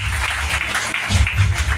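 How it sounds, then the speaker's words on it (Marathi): Audience applause at an award ceremony honoring Dr. Arun Thorat, a steady, dense wash of clapping lasting throughout with no speech over it. "असे सन्माननीय डॉक्टर अरुणजी थोरात यांच्यासाठी जोरदार टाळ्या वाजवायला पाहिजे"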